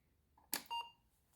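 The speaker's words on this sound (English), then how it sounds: "we get a beep" An Apple IIe computer powers up after a power supply repair, giving a single short, clean beep after a brief switch click in an otherwise quiet room.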